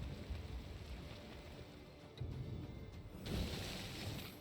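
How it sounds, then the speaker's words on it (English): Rain weather effect in the card game Gwent, a soft hiss of falling rain that swells in short bursts and grows louder toward the end, without talk. "There's more rain."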